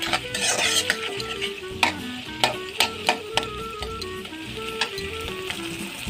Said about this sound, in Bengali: এইভাবে ডিমটার সাথে সব কিছু মিশিয়ে নেব